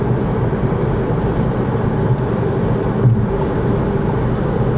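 Fiat Egea with a 1.4 Fire engine climbing a gentle incline at around 120 km/h on cruise control, a steady low engine drone mixed with road and wind noise inside the cabin, continuous and fairly loud.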